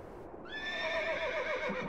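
A single horse whinny from the Windows 3.1 adventure game Piper, a bright quavering neigh that starts after a short silence and fades out over about a second and a half.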